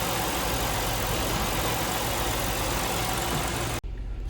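Engine idling with the EGR disconnected, on either a 1989 Ford Ranger or a 2000 Buick LeSabre, a steady close rumble that holds evenly and then cuts briefly near the end.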